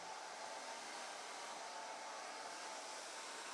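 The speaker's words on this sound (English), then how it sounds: "The company has developed a cyclone dryer, which has a high-strength motor and prevents hair from being damaged." A cyclone hair dryer with a high-strength motor runs continuously, a steady broadband whoosh with a faint motor whine, unchanging throughout and heard alone.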